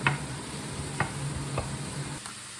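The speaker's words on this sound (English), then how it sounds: "And just let them saute for a bit and to soften." Mushrooms sautéing in a pan with salt, a soft steady sizzle running throughout, broken by a few sharp scrape or tap sounds from stirring.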